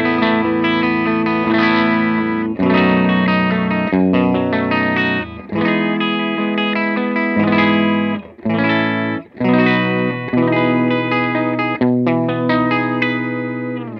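Electric guitar played through a Visual Sound Jekyll & Hyde overdrive pedal, a clean channel with bright, boosted treble, loud and sustained with chords ringing continuously and a few brief gaps between strums.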